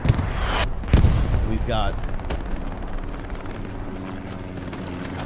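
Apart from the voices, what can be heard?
artillery shells landing on a trench in Hell Let Loose video game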